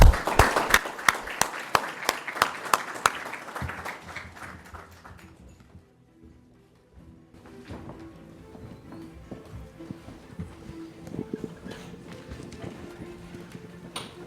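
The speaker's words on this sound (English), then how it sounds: "So let's give them a round of applause" An audience claps for panelists on stage at a sports diplomacy conversation, loud sharp clapping that fades out within a few seconds, followed by a quieter stretch of room noise and low talk.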